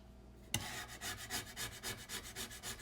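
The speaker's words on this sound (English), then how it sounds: "I'll just start scraping this crap" Scraping across an egg tempera panel: after a brief quiet start, about a dozen rhythmic, close rasping strokes follow one another at a steady pace, with no talking.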